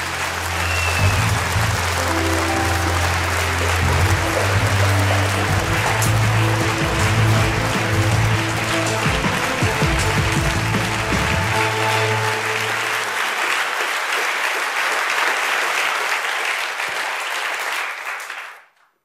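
A large audience at the Magritte film awards ceremony applauds Émilie Dequenne with sustained, dense clapping lasting around eighteen seconds, accompanied by low orchestral music for most of it, before the applause cuts off sharply.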